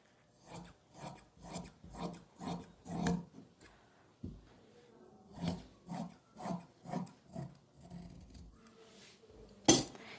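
Scissors snip through kurti sleeve fabric in a steady run of close, crisp cuts, about a dozen blade closures in two rhythmic bursts separated by a short pause, ending with a sharp click.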